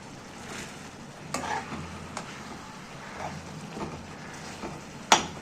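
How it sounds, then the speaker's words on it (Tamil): Tomatoes for chutney sautéing in a pan, a quiet continuous sizzle with occasional stirring taps and one sharp clink of utensil near the end, no speech. "இன்னும் கொஞ்சம் வதங்கட்டும்."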